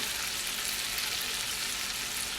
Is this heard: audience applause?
no